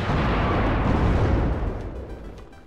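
Tanks firing in the WARNO strategy game, a loud boom with a heavy low rumble that decays over about two seconds.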